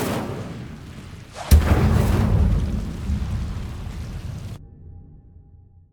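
An Incendio fire spell cast in Hogwarts Legacy bursts with a sudden loud whoosh and boom, then a roaring rumble that slowly fades before cutting off.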